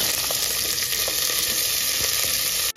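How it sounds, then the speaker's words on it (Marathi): Vegetables with mustard seeds and cumin sizzle loudly in hot oil for pav bhaji, a dense, steady crackling fry with occasional sharper pops, close and alone with no talking. "थोडीशी मोहरी टाकायची, जिरे टाकायचे आणि ह्या ज्या भाज्या आहेत त्या सगळ्या टाकून घ्यायच्या"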